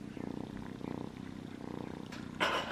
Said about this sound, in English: Listen to the purr.